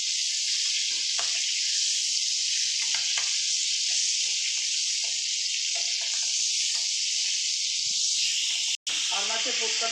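Fish sizzles steadily in hot oil in a pan for Bengali freshwater fish curry with mustard and poppy seed, a continuous loud crackle with occasional stirring clinks and a brief dropout near the end.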